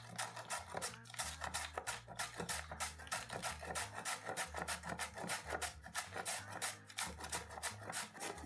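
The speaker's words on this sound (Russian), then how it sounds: "на терке для моркови по-корейски натираем 1 морковь" A single carrot rubbed back and forth on a Korean-style carrot grater, giving a steady run of close, rhythmic rasping strokes with no one talking.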